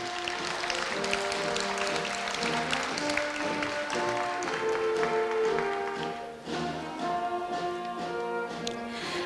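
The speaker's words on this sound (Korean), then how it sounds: "다시 한번 큰 박수 부탁드립니다" Audience applause at a Korea University anniversary ceremony, steady and dense over background music with sustained tones, continuing evenly before dipping briefly near the end.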